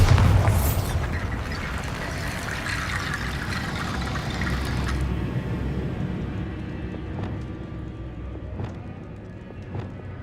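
A Bombarda spell explodes in Hogwarts Legacy with a deep booming blast at the start that fades into a rumbling wash of debris. Sharp clattering impacts follow later over a steady low background.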